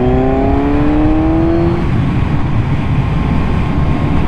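Heavy, constant wind roar fills a closed-visor helmet on a Kawasaki Z1000 motorcycle cruising at 60 mph. Engine tones rise briefly at first, then settle beneath the steady rush.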